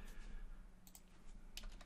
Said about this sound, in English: Sorry for the slow typing.